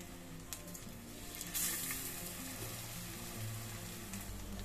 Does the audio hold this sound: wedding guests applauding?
no